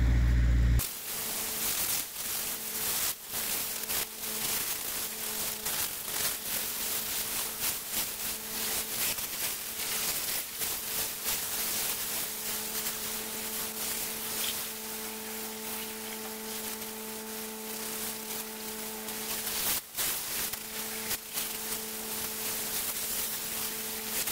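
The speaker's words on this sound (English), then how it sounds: "I have to clear all the snow off. Hopefully an air gun will do that" An air gun blows snow off a truck inside a shop, a steady loud hiss of compressed air running almost continuously with brief interruptions and a low hum beneath.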